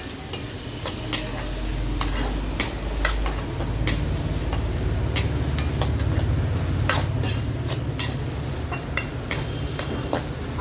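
Onion, ginger, green chili, curry leaves and garlic sauté in a hot pan, a steady close sizzle broken by repeated sharp scrapes and clinks of a spoon stirring against the metal.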